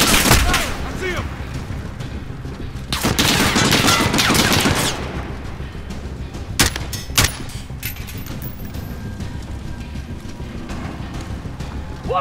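Machine gun fire from an enemy gun nest crackles through a Call of Duty: Modern Warfare campaign mission, bursts of rapid shots and sharp cracks coming in waves under shouted voices.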